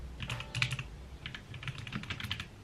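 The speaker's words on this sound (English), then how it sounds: "So I'm just going to be typing in write a story" Typing on a computer keyboard to enter a prompt, a run of quick, light key clicks at close range with a brief pause in the middle, no voices over it.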